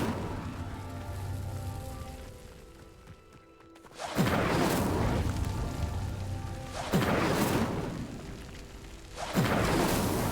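The Incendio fire spell is cast repeatedly in a video game, producing three loud, roaring bursts of flame a few seconds apart after a quieter, crackling stretch.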